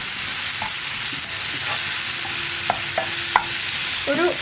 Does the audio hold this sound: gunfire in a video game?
no